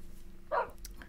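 A single short bark from a boxer puppy in modded Minecraft, one quick yip in the middle of a quiet moment.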